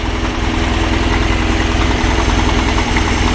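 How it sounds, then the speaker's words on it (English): A car engine with a 1980 VW Solex PICT 34 carburetor idles steadily nearby, partly on the choke's idle cam, a low, even rumble with a regular pulsing throb and no speech. "Right, so now the engine is running."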